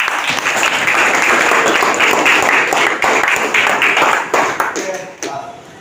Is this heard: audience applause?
yes